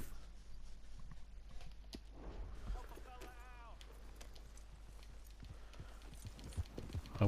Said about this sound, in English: Jump on your horse.